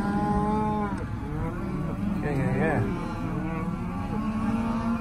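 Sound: cattle mooing, cows and calves in pasture

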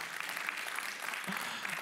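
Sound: church congregation applause

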